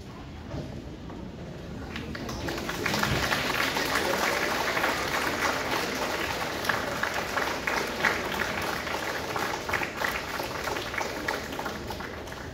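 Graduates stand and applaud the audience at a graduation ceremony, the clapping starting thinly, then swelling into a sustained, dense round of applause from a large crowd in a hall that continues steadily to the end.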